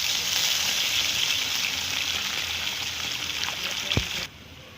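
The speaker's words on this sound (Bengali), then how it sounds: "টমেটো মশলাটা ভালো করে কষে নেব।" Tomato, ginger and garlic masala frying in a pan for a fish curry, with a continuous hissing sizzle close by, a couple of quick stirring scrapes, then it cuts off abruptly near the end.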